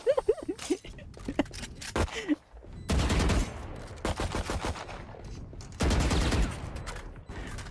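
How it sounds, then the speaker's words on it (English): Bursts of automatic gunfire in the shooter game Valorant, several rapid volleys separated by pauses, loud and close, with short voice sounds between them. "You're shooting at nothing."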